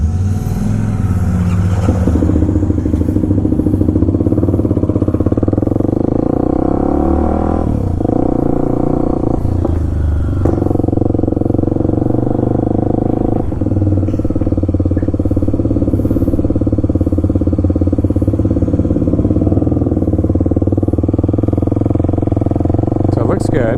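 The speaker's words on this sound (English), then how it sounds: "Gotta let her start her bike first, so that she doesn't hear how loud the KLX is" Modded Kawasaki KLX300SM motorcycle engine with power mods, running loud and steady nearby, its idle shifting pitch as the throttle changes and layered with another bike's engine, with voices underneath.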